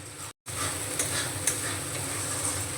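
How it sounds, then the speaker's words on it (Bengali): Spice paste for a Bengali jackfruit curry (echorer kalia) stir-fried in a pan, with a steady sizzle and occasional scraping stirs, broken by a very short silent gap near the start. "মশলাটাকে সুন্দর করে কষিয়ে নেব"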